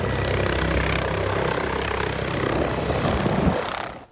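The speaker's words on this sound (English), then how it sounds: "This is their 3rd helicopter," Yorkshire Air Ambulance's third helicopter, a charity air ambulance in Yorkshire, makes a steady, loud rotor and turbine roar that holds throughout, then fades abruptly at the end.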